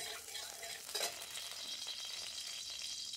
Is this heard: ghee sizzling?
yes